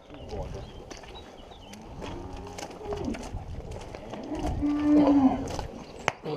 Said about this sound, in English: the easiest I think we've ever had putting cattle in a shed